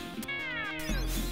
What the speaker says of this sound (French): on peut mourir tué par des chats